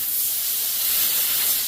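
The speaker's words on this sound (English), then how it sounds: "But give this a quick spray down." Steady hissing spray of powder coating prep cleaner being applied to a metal part, a continuous close, even aerosol rush with no talk over it.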